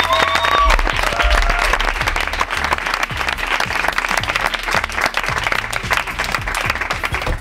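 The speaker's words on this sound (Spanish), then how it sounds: "Un aplauso gracias, para los Vivancos." Audience applause and clapping in a radio comedy show studio, a thick continuous wash of hands that stays loud throughout, with a brief tone and a short voice near the start.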